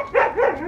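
A dog gives two or three quick, close barks in a rapid yapping burst, loud and clear with no talk over them.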